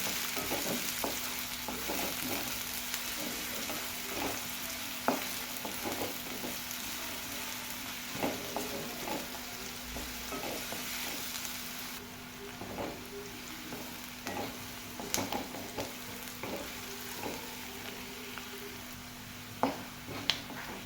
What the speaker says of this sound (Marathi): एक कांदा टाकून घेऊ चिरलेला चांगला फ्राय करून घ्यायचा आहे चांगला